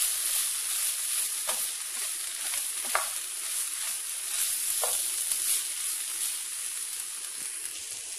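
Turmeric, chilli powder and masala are stirred in a pot for veg dum biryani, a soft steady frying hiss with a few faint scraping strokes of a spoon at irregular intervals, close and fairly quiet.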